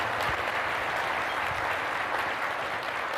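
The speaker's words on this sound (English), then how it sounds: "I want to give them a round of applause for making me a success" An audience in a county address hall applauds county employees, a dense, sustained burst of clapping that fills the whole moment at an even level.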